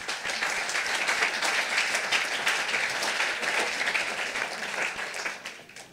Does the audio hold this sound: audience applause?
yes